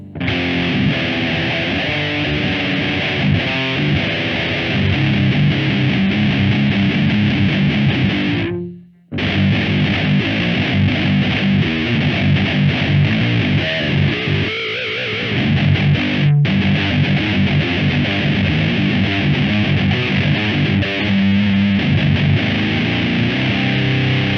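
Heavily distorted electric guitar through a Line 6 Pod 2.0 plays continuously, loud and saturated, with one brief drop-out partway through and no talking.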